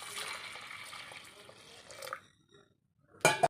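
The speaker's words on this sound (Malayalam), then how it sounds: "കുറച്ച് വെള്ളം ഒഴിച്ച് കൊടുക്കാം" Water is poured from close by into a cooking pot of dal seasoned with turmeric and salt, a liquid splash that fades into quiet. A short, louder splash follows near the end.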